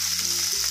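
Green chilli dropped into hot oil for tempering with asafoetida, a steady close sizzle and frying hiss throughout the short moment.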